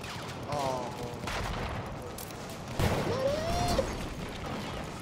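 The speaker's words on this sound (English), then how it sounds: "there's so many explosions" Distant bursts of gunfire and rumbling blasts in Battlefield 1, with a rising whistle-like tone sweeping through the middle.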